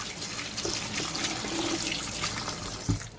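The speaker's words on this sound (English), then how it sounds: "Put a little bit of cold water on top of them" Cold tap water runs steadily over shirataki noodles in a bowl, a close, continuous splashing pour with no talk.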